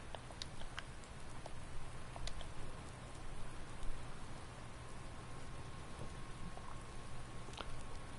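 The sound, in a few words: rain falling in farming video game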